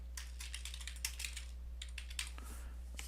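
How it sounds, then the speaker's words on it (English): Sample text is typed on a computer keyboard in quick, irregular clusters of light clicking keystrokes, close and fairly quiet over a faint steady hum, with no voices. "let's just type in sample text"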